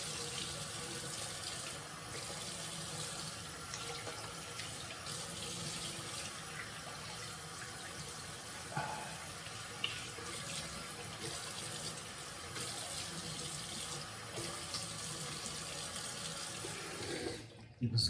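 A tap runs steadily into a sink as shaving soap is rinsed off after a shave, a continuous close gushing with no talk and a small clunk as it shuts off at the end.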